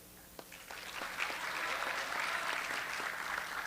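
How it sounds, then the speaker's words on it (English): A room full of people clapping at a high school fall sports awards event, steady sustained applause with individual claps audible, building slightly and continuing throughout. "These guys deserve a lot of applause"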